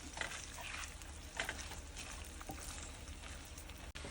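Chopped onion with salt frying in a pan for green chile stew, a steady close sizzle with scattered stirring scrapes and clicks throughout, no talking.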